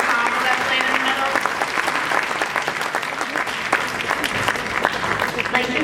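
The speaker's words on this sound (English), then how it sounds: "We have another round of applause for Mr. Hyde, the 8th grade orchestra, and that wonderful ensemble that played in the middle." Loud, steady audience applause fills a school auditorium at a winter concert after an 8th grade orchestra performance, with many hands clapping continuously throughout.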